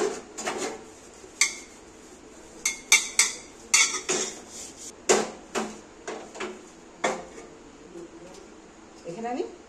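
A spoon scrapes and clinks against a cooking pot while spreading cow's ghee for chicken biryani, irregular metallic taps and rubs heard close under a person talking.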